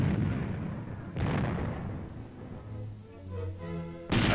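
A tank main gun fires tracer projectiles, giving three heavy booming blasts. Each is followed by a fading rumble, with quieter low tones between them.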